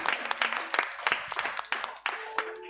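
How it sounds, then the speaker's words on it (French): A church congregation at a Sunday service breaks into scattered applause, with quick overlapping claps rising and falling in bursts over a few seconds. "Vous avez acclamé pour Abigail ou pour notre maman? On acclame pour notre maman."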